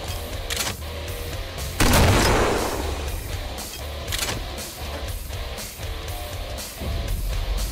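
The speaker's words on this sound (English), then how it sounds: "A machine gun for an arm?" Machine gun fire in Killing Floor rattles in quick repeated bursts alongside a single loud booming blast early on, all dense and close amid game noise.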